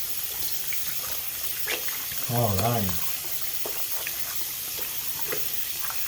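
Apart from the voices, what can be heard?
tap water running while rinsing hands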